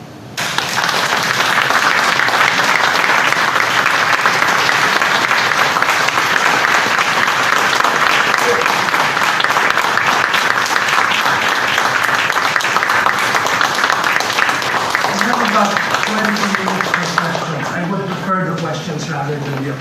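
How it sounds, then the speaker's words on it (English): A lecture audience applauds for a professor's last lecture, sustained dense clapping that stays loud and steady for nearly twenty seconds, then thins as a voice begins speaking near the end. "The applause can give me a false sense of confidence."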